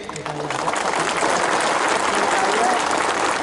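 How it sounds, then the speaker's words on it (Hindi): Crowd applauding at a political speech in Sabroom, Tripura, a loud burst of many hands clapping, steady and dense for a few seconds. "सब इनको भी एक बड़ा ताली दीजिए।"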